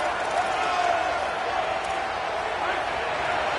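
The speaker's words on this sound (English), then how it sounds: "This crowd knows when to bring it." Steady stadium crowd roar in a college football video game, a dense continuous wash of cheering and noise at a goal-line third down, loud and unbroken throughout.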